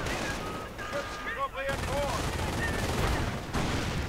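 Mortar blasts and rattling gunfire in a WWII real-time strategy video game, with rapid overlapping shots and explosions throughout, dense and loud, mixed with in-game voices and effects.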